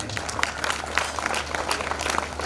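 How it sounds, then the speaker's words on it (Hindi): Applause from an audience at a Jain Panchkalyanak religious event in Murariya, a steady patter of many hands clapping at once, continuous and fairly close, under a faint low hum. "मतलब ताली बज गई"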